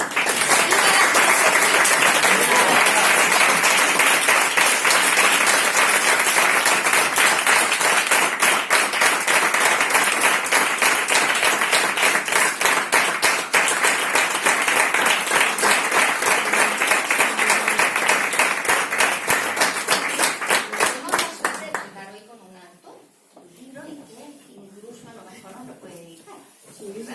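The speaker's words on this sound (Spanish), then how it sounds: "ese aplauso enorme para Dolores" A lecture audience gives long, loud sustained applause after a philosophy talk, dense clapping for about twenty seconds before it fades, followed by quieter talking.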